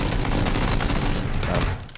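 Dense bursts of gunfire from PUBG fill the clip, loud and continuous near-field shots overlapping into a sustained fusillade that tapers off at the end, with no talking.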